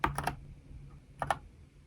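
Keystrokes on a cheap AliExpress mechanical keyboard: two short bursts of three quick clicks each, separated by a brief pause, close and clear in a quiet room.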